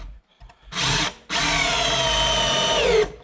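A power drill drives 3.5-inch screws into wood while building a raised garden bed, heard up close as a short whirring burst followed by a longer, steady run, with no talking.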